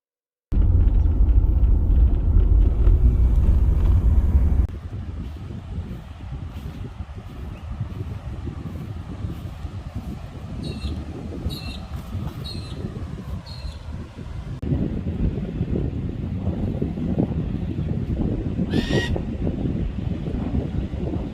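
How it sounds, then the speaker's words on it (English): Strong wind rumbling and buffeting the microphone continuously at Sarina Beach, Queensland, Australia, with a low roaring that surges and eases, and faint chirps in the background. "Sorry if it's so windy."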